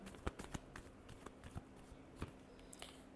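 Tarot cards are shuffled close up in soft riffling flicks and taps, irregular and quiet, with no talking.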